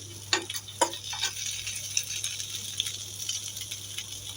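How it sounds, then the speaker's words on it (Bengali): Slices of bread slowly frying until brown, a quiet steady sizzle with a few light clinks and scrapes of a utensil early on, no talking. "তো এভাবে আমরা আস্তে আস্তে হালকা আছে ভেজে নেব রুটিগুলোকে ব্রাউন করে।"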